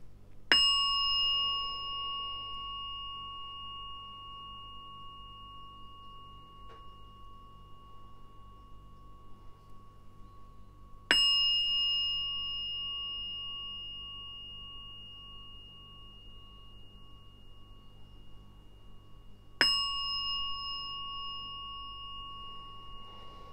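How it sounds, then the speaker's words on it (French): A Tibetan singing bowl is struck three times, about ten seconds apart, each strike a clear bright ring that hangs and slowly fades into quiet. "je te refais un petit ging-gong du bol tibétain sur le chakra du cœur"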